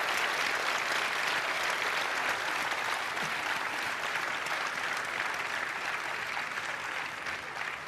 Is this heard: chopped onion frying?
no